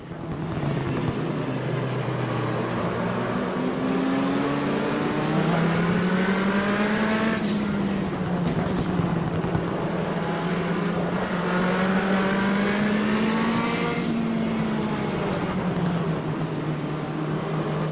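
A race car engine in the Automobilista sim racing game at Ibarra at night, droning steadily as the throttle is feathered, with pitch rising and falling in long sweeps and sharp gear-shift breaks, loud and continuous.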